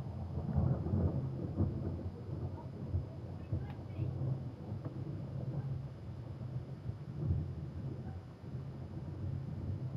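A Minecraft thunderstorm with rolling thunder rumbles and steady rain noise, low booms swelling and fading over ten seconds at moderate level, no voices heard.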